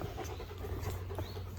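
A greyhound pants steadily on a lead during a park walk, the quick breaths close and continuous over a low outdoor hum.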